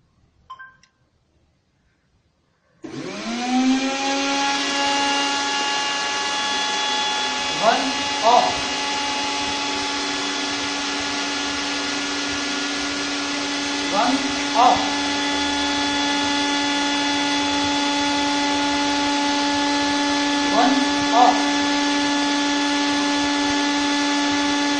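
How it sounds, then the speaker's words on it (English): Electric mixer-juicer switched on, its steady motor whine holding loud and constant throughout, with several brief pitch dips where the load changes, and no talk over it. "This is a mixer or juicer."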